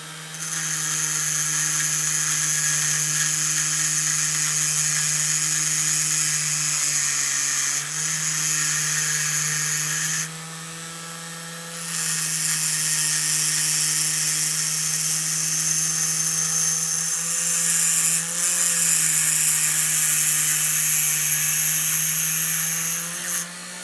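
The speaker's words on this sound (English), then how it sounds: "it takes a steady hand and a Dremel" A Dremel rotary tool trims a brass saxophone mouthpiece, a loud, steady high-pitched whine with a constant hum underneath, briefly dropping as the cut eases off twice before grinding on.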